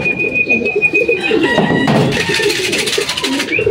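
Racing pigeons arriving at the loft after a 112 km derby race in Oton, Iloilo, with loud, close cooing and rustling throughout and a thin whistle-like tone early on.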